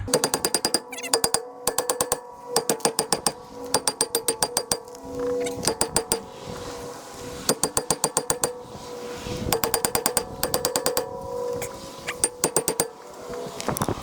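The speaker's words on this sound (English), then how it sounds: "You just pound on the rotor." A hammer pounds repeatedly on a Ram 1500 pickup's brake rotor to knock it loose, sharp metallic strikes in rapid bursts of several hits with short pauses between, loud and close, no talking.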